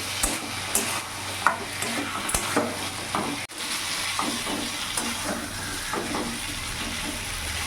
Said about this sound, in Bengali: মশলার সাথে একবারে ভালো করে মিশিয়ে নেব, দিয়ে কিছুক্ষণ কষিয়ে নেব।